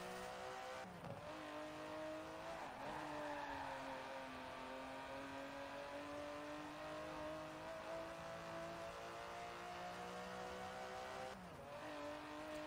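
An Aston Martin DB11 with a 5.2-liter twin-turbo V12 drives in the racing game Forza Horizon 4, the engine droning steadily at high revs with a few gear shifts, faint and alone.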